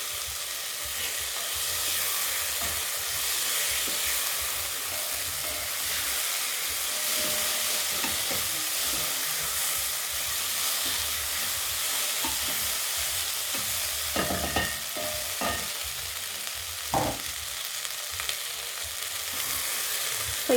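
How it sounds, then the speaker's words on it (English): Vegetables frying in a pot for beef and vegetable fried rice, a steady hissing sizzle with occasional scrapes of a stirring spoon near the end, no voices. "So just stir this in for about another minute, and then our veggies will be done."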